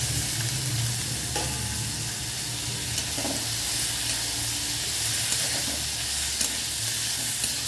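Turmeric, a pinch of asafoetida and boiled ghevda beans sizzle in a frying pan. The hiss is steady, close and continuous, with occasional stirring scrapes and no talking.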